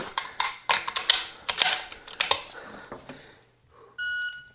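A shot timer gives one sharp, steady electronic beep near the end of precision rifle dry fire practice, after a run of close clicks and clacks of handling the rifle and a short quiet pause.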